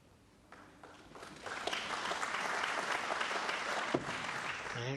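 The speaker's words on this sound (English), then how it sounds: "Good safety there from Marco Fu, appreciated by the audience" An audience at a snooker match, the Australian Goldfields Open final, breaks into applause that swells after a quiet start and holds steady, fairly distant, with a faint voice beneath.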